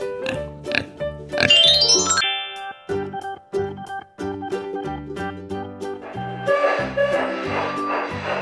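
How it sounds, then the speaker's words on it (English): A farm pig oinking over a bright, tinkling children's music backing, with repeated short grunts cutting through a steady melodic bed of chimes and bells. "Pig."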